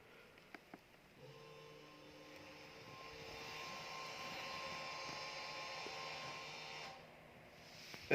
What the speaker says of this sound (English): if you heard that, that was the brake pads going into maintenance mode